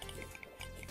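Water in the Terraria video game gives a faint liquid bubbling and dripping, with short soft blips that repeat over a quiet background.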